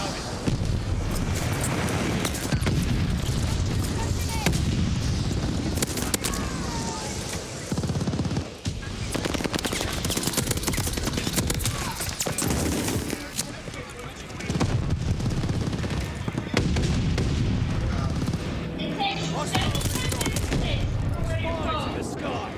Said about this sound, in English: Enemy's got a flight bomb incoming.